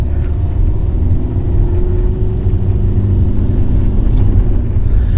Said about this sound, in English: But yeah, listen to that little diesel.